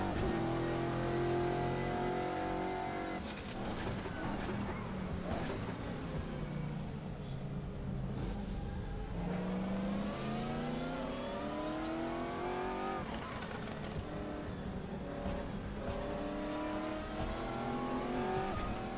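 Dodge Viper GT1 race car in the Assetto Corsa racing game, its engine revving loudly and continuously with rising and falling pitch as it accelerates through gears at the Nurburgring.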